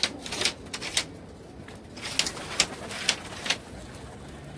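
Soft pigeon coos and wing flutters come at irregular intervals over a low background hum, fairly close, with no talking; a loft of homing pigeons.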